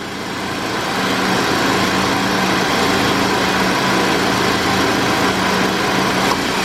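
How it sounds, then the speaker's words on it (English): Idling Ford Focus engine runs steadily up close as the car's AC compressor kicks on, settling into a continuous loud hum with a faint droning tone and no talking. "I heard the AC compressor kick on"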